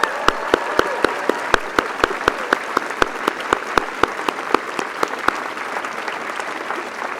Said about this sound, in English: they deserve a round of applause, don't you?